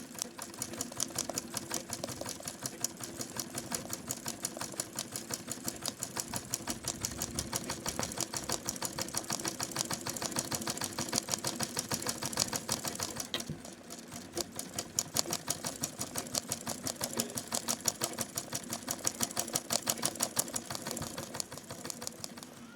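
An ordinary domestic sewing machine stitches a lion embroidery design, giving a steady, fast, quiet needle chatter that runs on without pause and without voices.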